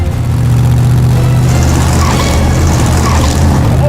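The Vette Kart's engine revs loud and close at around 1,800 RPM as it drives at a ramp, a sustained low droning roar that rises slightly midway, with no talk over it.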